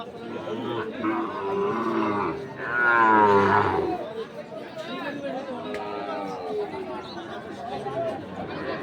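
Shahiwal bulls and calves low loudly at a crowded cattle market, one long moo swelling near the middle, while many people talk and bargain all around.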